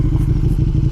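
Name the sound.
KTM Superduke 1290R motorcycle riding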